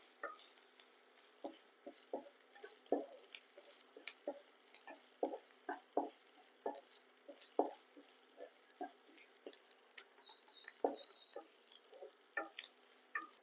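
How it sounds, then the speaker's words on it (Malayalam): Ginger garlic paste frying in a pan for a Kerala fish curry, a faint low sizzle with a regular series of soft spoon scrapes and taps as it is stirred, quiet and without talk. "ഒന്ന് നല്ലോണം ഇളക്കി കൊടുക്കുക."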